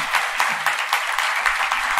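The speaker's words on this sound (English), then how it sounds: "Let's give them a round of applause." An audience gives a round of applause at a cooking-themed event, dense steady clapping close by throughout with no talk.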